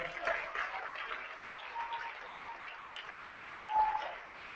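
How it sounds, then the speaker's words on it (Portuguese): Church congregation at an evening service applauding, a soft, fairly distant wash of many hands clapping that holds steady, with faint voices beneath. "Se você crê, aplauda o Senhor."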